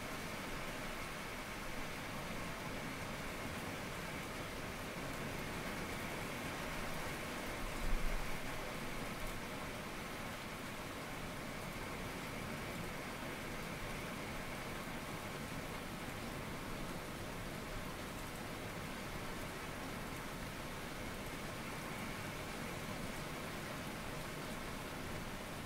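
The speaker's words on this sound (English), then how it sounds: "that is a lot of rain coming down" Heavy rain pours down steadily as a dense, unbroken hiss for the whole stretch, uniform and fairly loud with no speech, just one brief low bump partway through.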